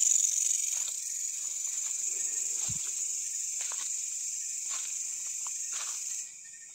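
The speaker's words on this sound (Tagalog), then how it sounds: "Sobrang maingay na yung insekto." Loud, unbroken high insect chirring outdoors, with faint scattered footsteps and rustles underneath, easing slightly near the end.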